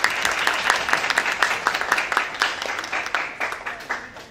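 An audience at a Miss New Face BiH beauty pageant applauds the event organizer with lively, fairly close clapping that holds steady for several seconds, with voices faintly under it.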